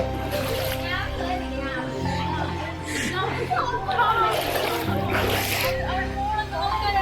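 Water splashing and sloshing as people wade through a river holding a rope, with children's and adults' voices talking and laughing over the splashes.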